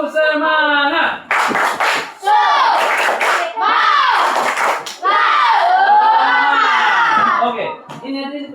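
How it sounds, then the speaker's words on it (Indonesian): Schoolchildren in a classroom do a rhythmic spirit clap in bursts, mixed with loud, excited chanting and shouting voices up close. "Ayo dulu, tepuk semangat."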